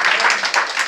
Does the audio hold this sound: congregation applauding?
yes